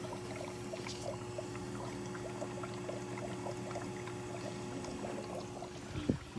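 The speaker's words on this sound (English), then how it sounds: "This noise is from the water that fills." Quiet, continuous trickle and rush of water inside a Bosch dishwasher that hums but won't start, with a steady low hum underneath and small splashes throughout.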